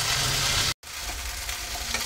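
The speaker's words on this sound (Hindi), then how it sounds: "अदरक लहसुन को भी थोड़ा देर हम भून लेंगे ताकि इसका कच्चापन निकल जाए।" Crushed ginger and garlic fry in a pan for a spicy bakla vegetable curry, making a loud, close, continuous sizzle with a brief break partway through and stirring scrapes, with no talk.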